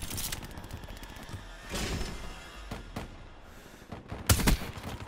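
Gunfire from the video game Black Ops 3 crackles in repeated bursts throughout, with a louder, heavier volley of shots near the end over a steady battle din.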